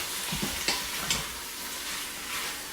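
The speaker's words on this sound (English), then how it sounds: "You can hear it sizzling" Tomato paste sizzles and fries in a hot pan for a quick cooker steak soup, a steady bright hiss with a few soft stirring knocks and no talking.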